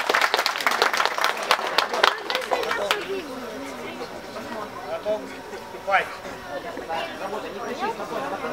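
Audience at an arrow-shooting contest in Zaporizhzhia gives a burst of loud applause for about three seconds, then fades into crowd chatter and murmuring voices.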